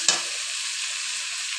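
Prawns and spices are stir-fried in a wok for a prawn and banana-flower dish, giving a brief stirring scrape followed by a steady, soft sizzle.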